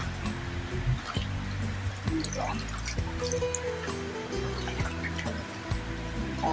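Banana blossom is rinsed by hand in a basin of water, giving soft sloshing and dripping sounds under steady background music.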